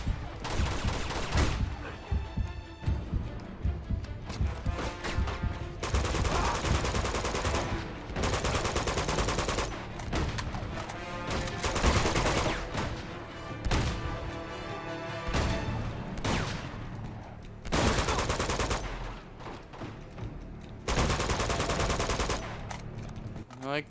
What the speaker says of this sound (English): I like that the blind fire is pretty good.